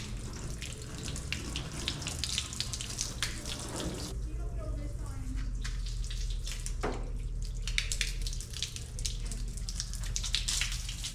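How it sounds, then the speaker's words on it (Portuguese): Water leaks and drips through the latch of a round window on a handmade motorhome, a steady hissing, splashing flow that runs close up throughout with sporadic louder drops. "Tá pingando aqui da toalha e dá-lhe vazar água."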